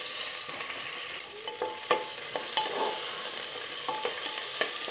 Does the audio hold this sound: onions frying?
yes